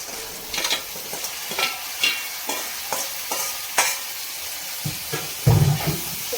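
Broad beans (chikkudukaya) fry with onions in a pan, a soft continuous sizzle broken by repeated scraping stirs and a louder clatter near the end.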